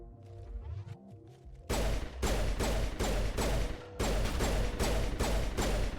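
Pistol gunfire in the video game Mass Effect, a rapid run of loud, sharp shots at an even rhythm, with a short mechanical clatter before the firing starts.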